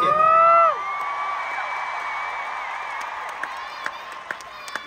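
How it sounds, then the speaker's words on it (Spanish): A concert audience at the Auditorio Nacional applauds and cheers for a pop group, a sustained crowd roar that swells briefly at the start, then settles into steady clapping and whoops. "ahora aplaudan y griten muy fuerte porque esto es para ustedes"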